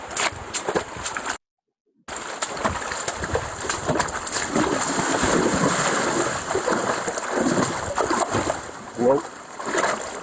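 Someone wades across a river on a forest trail in the Sahyadri hills near Bhimashankar, and the water splashes and churns around their legs. A close, continuous rush runs under some breathing and exclamations, with a brief gap of silence near the start.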